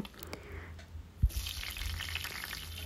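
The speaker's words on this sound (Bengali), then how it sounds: "কড়াইতে যে তেল আছে সেই তেলের মধ্যে এরপর আমি ফুলকপিগুলো ভেজে নেব।" Cauliflower florets go into hot oil left in a wok after eggs were fried, a low thud followed by a steady, moderate sizzle that swells and continues.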